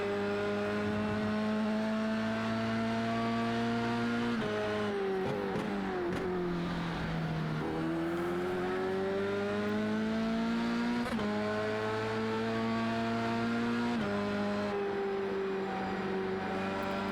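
Vintage F1 legends race cars in a racing game at Road America: a loud, continuous high-revving engine drone that rises and falls with gear changes and throttle lifts, steady throughout with no talk.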